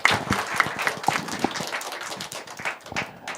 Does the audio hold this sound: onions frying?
no